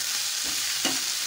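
Capsicum frying in a pan for manchurian gravy, a continuous bright sizzle with a couple of soft stirring scrapes, close and even over a short stretch.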